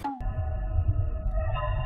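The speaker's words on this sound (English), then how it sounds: "I think this is the perfect sound for cave ambience in Minecraft." Minecraft cave ambience sound distorted through repeated machine translation, heard as an eerie, steady synthetic drone with a downward-sliding tone at the start, playing alone without voices for about two seconds.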